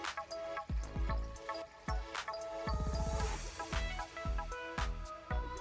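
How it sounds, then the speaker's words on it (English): Half a liter of water poured into a cooking vessel already holding milk for payasam, with gurgling splashes and drips, a sustained burst of pouring in the middle, and scattered drops before and after. "Now let's add half a liter of water."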